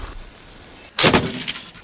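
A single sharp gunshot from a weapon mounted on a ground combat drone cracks out close and loud after a quiet stretch, followed by a short rumbling tail.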